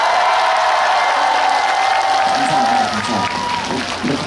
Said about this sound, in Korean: 큰 박수 한 번 치겠어요?